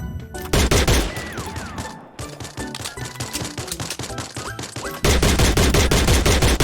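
Loud, rapid automatic gunfire fills a Free Fire match in dense, rattling bursts. The shooting drops off briefly partway through, then resumes at full intensity, with no voices over it.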